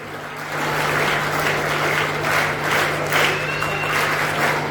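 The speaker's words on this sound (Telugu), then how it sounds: "Claps కొట్టాలన్నా, claps." An audience at the opening ceremony of a government high school cultural event in Palasa claps steadily for an arriving chief guest, a loud, continuous round of applause with a faint steady hum beneath.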